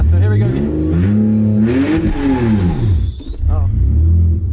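BMW E46 with a manual gearbox, set up as a drift car, doing a burnout: loud, close engine revs surge up and fall back in repeated sweeps, with a brief high squeal near the end.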